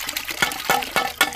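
Mashed watermelon milkshake being poured into a vessel, a close, loud burst of splashing liquid in several uneven gushes.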